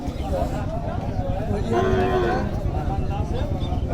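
Cattle low now and then amid the steady crowd din of a busy cow market at Hazratpur, with people talking throughout.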